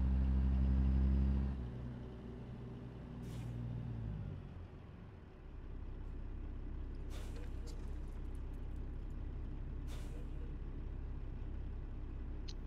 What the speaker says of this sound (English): I like the way this engine sounds.